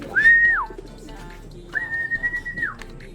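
Racing pigeons being fed give two drawn-out, slightly falling whistle-like calls, each about half a second long, near and clear over faint background rustle.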